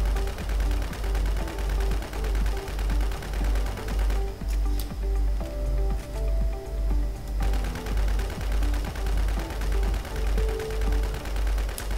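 Rapid automatic gunfire from the video game WarZ, with steady, rhythmic bursts of shots and a constant low thump running through, loud and continuous with no talking.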